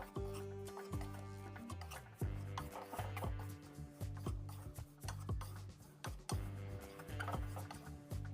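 Rice flour being dry-roasted in a pan for dudh chitoi pitha gives steady scraping and stirring strokes in a rough, repeating rhythm, heard under continuous background music.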